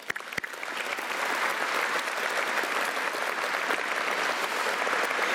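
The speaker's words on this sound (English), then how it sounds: "let's give them a round of applause" An audience at an aviation hall of fame awards dinner in San Antonio breaks into applause for students, starting with a few scattered claps then swelling into steady, even clapping that continues to the end.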